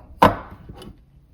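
A knife chops cilantro on a board, one crisp, close thwack followed by a second lighter cut, with quiet in between.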